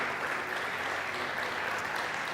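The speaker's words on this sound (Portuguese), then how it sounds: "Que você aplauda a Deus." Church congregation clapping during a sermon, an even, fairly quiet patter of many hands heard at a distance and sustained without breaks.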